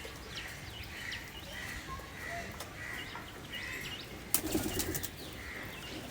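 A Kamagar pigeon held in the hand gives a sudden brief flurry of wing flaps near the end, preceded by soft repeated coos over a quiet background.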